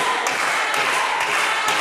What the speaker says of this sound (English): you hear clapping, and suddenly everyone starts clapping